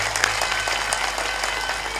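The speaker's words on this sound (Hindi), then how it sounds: "ताली बजाइए।" Audience clapping at a village religious gathering during prasad distribution, a steady dense wash of many hands applauding together without a break, moderately loud and close.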